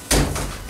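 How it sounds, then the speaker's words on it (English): A single door pulled shut at a mountain lodge, one short solid thud followed by a brief rattle, close and clear with no talk. "let me close the door behind me."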